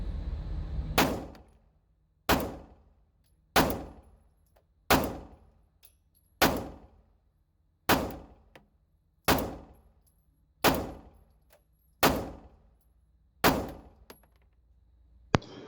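Ten evenly spaced shots from a Taurus G2C pistol fitted with a new trigger and recoil spring, fired at a 7-yard range target, each a sharp loud crack with a short decaying tail and quiet gaps between.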